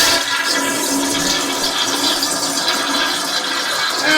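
A toilet flushes in one loud, continuous rush of water that fills the whole stretch, with no voices over it.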